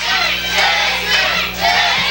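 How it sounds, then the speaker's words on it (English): A packed wrestling arena crowd roars and cheers throughout a match, a loud, continuous wall of shouting voices with rising surges and no commentary over it. "Listen to this crowd. They are into it, Cecil Scott, and so am I."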